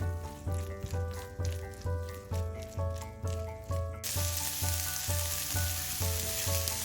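Egg and beaten rice cook in a pan, with a soft sizzle under rhythmic background music that swells into a louder, hissing fry halfway through.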